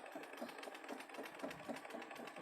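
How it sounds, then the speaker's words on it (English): Sewing machine stitching through fabric at a slow, steady pace, giving a soft, continuous mechanical whir with faint rhythmic ticking; steady and fairly quiet, with no talking. "When I stitch this, I slow and steady, not as slow as I was sewing the other day"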